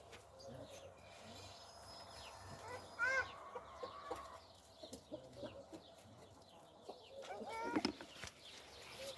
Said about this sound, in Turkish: Civcivlere bakalım.